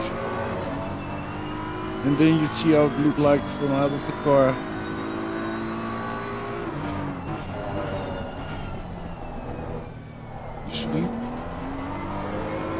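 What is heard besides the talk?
BMW race car engine in Assetto Corsa Competizione video game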